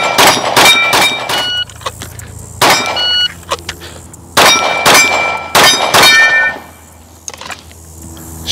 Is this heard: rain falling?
no